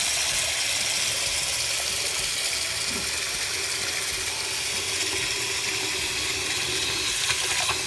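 Water runs steadily from a newly installed bathroom sink faucet, a close, continuous hissing splash into the basin with faint mechanical clicks, and no talk over it.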